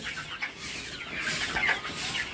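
Golden-coloured Sonali chickens being raised for laying cluck at a poultry farm, a busy overlapping chatter of soft calls, steady and fairly near with no talk.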